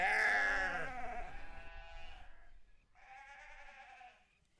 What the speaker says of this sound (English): This is sheep country and the newborn lambs are still a bit unsure as to who is mum.